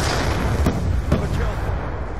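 A frag grenade blast in Call of Duty Black Ops 2, a loud, rumbling burst of gunfire-like booms with sharp impacts and a broad, lingering roar.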